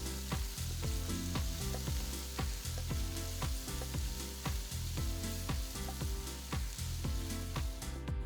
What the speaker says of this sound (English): Saute the onions for about 2 minutes.